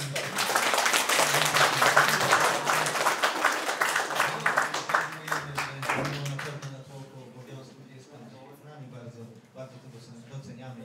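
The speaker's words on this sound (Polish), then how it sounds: "Wielkie brawa." Audience applause at a Polish Independence Day celebration, a dense burst of clapping that swells early and gradually thins out toward the end, with a voice talking over it.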